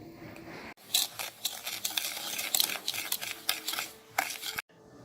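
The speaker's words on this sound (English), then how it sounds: "I'm going to mix my sugar and pectin." Sugar and pectin are mixed for strawberry banana freezer jam, producing a run of quick, close granular scraping and stirring strokes in bursts, with brief pauses and no speech.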